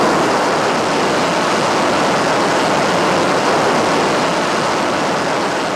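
F-14 Tomcat jet engines during a takeoff run produce a loud, continuous, broadband roar that holds steady and close throughout, with no voices.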